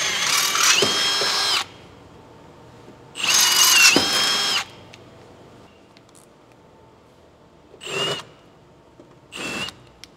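A power drill enlarges the factory holes to 9.5mm while fitting a snorkel to a Ford Next Gen Raptor, in four separate bursts: two long runs, then two short ones, with quiet gaps between.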